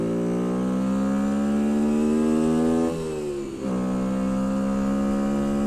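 A Bullit Hero 50cc four-stroke motorcycle engine drones steadily while riding, a loud, continuous harmonic hum that dips briefly in pitch and level as the throttle eases, then settles back to a constant tone.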